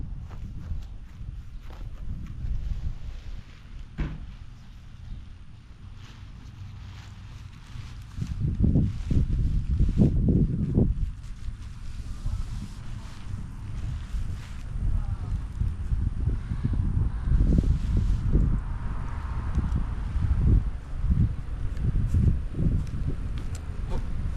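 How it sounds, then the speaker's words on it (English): Gusts of wind buffet the microphone in bursts while a tent is pitched outdoors, with soft thuds and footsteps underneath throughout. "it's already kind of windy"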